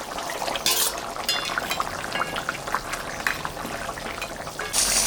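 A katla fish head drops into a hot pan of curry, bringing steady bubbling and sizzling, with a couple of brighter hissing bursts and light clinks close by.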